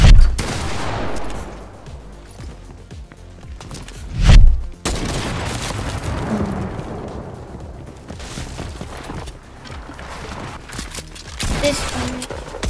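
Gunfire in a Fortnite desert zone-wars 1v1 match, a run of rapid game shots with one heavier boom near the middle and busy game effects throughout, no voices.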